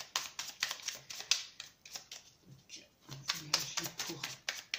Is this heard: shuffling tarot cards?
yes